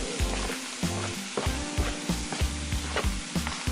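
Sautéed vegetables and meat sizzle loudly in a pan, a dense continuous frying hiss with rhythmic stirring knocks and scrapes every fraction of a second, with no talking.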